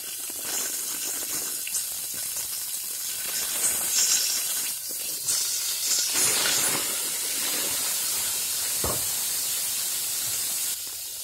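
Cauliflower masala with curry leaves and cumin powder frying in a pan, giving a steady close hiss and sizzle throughout, with brief clinks and stirring scrapes.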